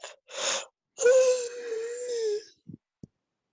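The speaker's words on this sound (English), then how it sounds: "I just yawning again." A person yawns with a long, drawn-out, voiced moaning exhale after a brief intake of breath, followed by a couple of small mouth sounds, close and alone.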